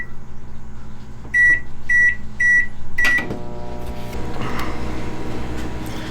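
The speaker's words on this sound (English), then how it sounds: "So let's get it in the microwave." Microwave oven running while heating a cup of slow-sink plastic worm blend for soft bait making, with four clear beeps followed by a steady low mechanical hum of the oven.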